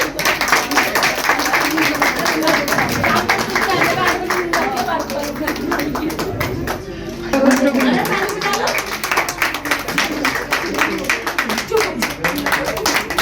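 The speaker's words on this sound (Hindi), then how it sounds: "जोरदार तालियां इनके लिए, साक्षी बहन के लिए" Hearty clapping from a crowd at a New Year 2023 celebration and honoring event held by the Sukhmani Seva Organization, continuous and fairly close, with voices talking over it and a short dip midway.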